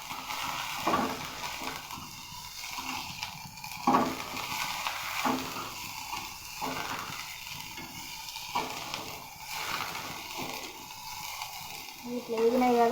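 Chopped ridge gourd and tomato fry in a pan for a chutney, giving a steady low sizzle with periodic scraping stir strokes, while a voice seems to speak at times.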